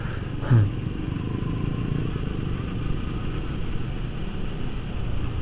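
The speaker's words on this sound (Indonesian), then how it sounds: "Aduh bapak ini kenapa motornya bapak?" A motorcycle engine runs nearby as a steady low rumble and hum, with a brief louder bump near the start and no talking.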